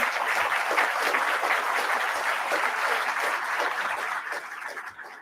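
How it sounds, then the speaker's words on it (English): An audience at a downtown Columbus strategic plan forum gives the panel another round of applause, a full, even burst of clapping that tapers off near the end of about five seconds. "Let's have another round of applause for them."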